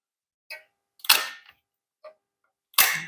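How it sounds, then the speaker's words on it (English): A pop rivet gun sets rivets in a flap on a vintage Holiday Rambler camper, giving a few light clicks and two louder, sharp snapping bursts separated by silence, with no talking. "and then we'll pop rivet it"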